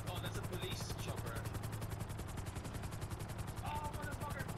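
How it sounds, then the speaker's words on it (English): A police helicopter in the video game GTA V Online gives a faint, rapid, even rotor chop that pulses without a break throughout. "Oh, that's a police chopper."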